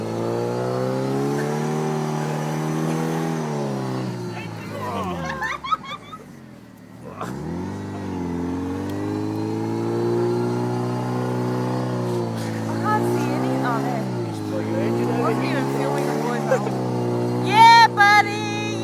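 An off-road vehicle churns through a sand bog at night with its engine revving hard in long, rising and falling surges. A short bog-out dip comes midway and brief crackles of fireworks sound near the end.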